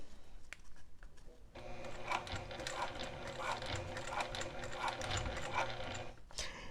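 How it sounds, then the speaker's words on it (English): A sewing machine stitches down the middle of fabric pouch binding, starting after a brief pause into a steady rapid mechanical chatter with a regular pulsing rhythm, close and fairly quiet, then stopping near the end. "we're stitching right down the middle of that binding"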